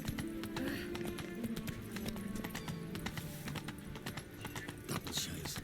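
Hooves of the horse Roach in The Witcher 3 clop rapidly in a steady galloping rhythm, close and continuous, with a brief whinny and faint game music underneath.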